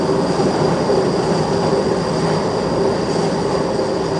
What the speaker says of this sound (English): let me just let this train pass